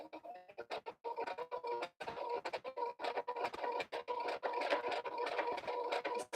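A sewing machine back stitching a fabric pouch, rapid mechanical needle clatter running in repeated bursts with short pauses between passes, close and clear, no talking.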